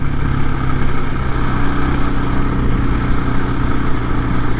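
2024 KTM EXC-F 500 Six Days dual-sport motorcycle riding through a run of turns on a road, its engine a loud, close, rough continuous drone with wind buffeting, and no clear shift break.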